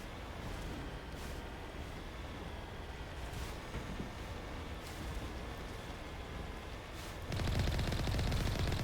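Vehicle-mounted gun in Mass Effect, driven across a lava planet, starts firing near the end: a sudden loud, dense burst that rises over a steady rumbling engine drone.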